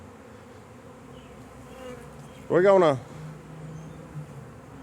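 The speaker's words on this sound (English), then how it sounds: "our little pile of bees kind of fell apart on us trying to get them in that one" A swarm of honeybees hums as a low, steady drone throughout, while a voice cuts in briefly and loudly partway through.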